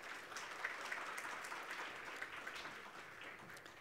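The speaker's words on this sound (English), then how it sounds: "that was a poor round of applause for her" Scattered, thin applause from a conference audience as a panel speaker is invited to the podium, a steady but modest patter of clapping lasting several seconds without much swell.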